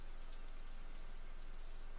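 Rain in the farming game Stardew Valley, a steady dense hiss of falling drops, even and continuous across the whole moment, faint and with no voices.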